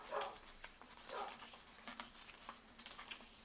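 A dog whimpers faintly from a separate room, soft whines and small yips sounding at a distance in a quiet home with low background noise.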